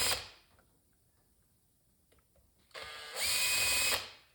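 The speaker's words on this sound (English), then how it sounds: "you just got the 4 screws, metric screws," Cordless driver backing out four small metric screws from the float bowl of a 33mm Mikuni carburetor, a brief buzz at the start, then quiet, then a louder steady whir near the end.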